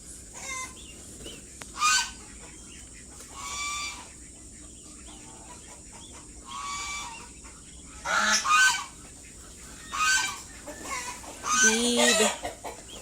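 Geese honking among chickens in a poultry-selling setting, with several loud, harsh honks in bursts over a quieter background of clucking fowl, fairly close.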